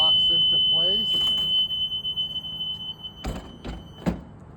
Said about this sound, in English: we're checking to make sure the alarm sounds and it locks into place